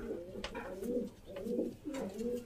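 Pigeons coo nearby in three or four rolling bursts separated by brief pauses, clear and fairly loud against a quiet background.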